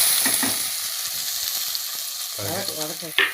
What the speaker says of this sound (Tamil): சரி வெங்காயம் தக்காளி வதக்கிடலாம் நல்லா வதக்கிடுங்க